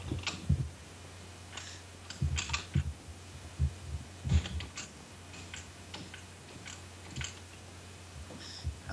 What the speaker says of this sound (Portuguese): Se eu ficar ouvindo o meu teclado, não ligue não.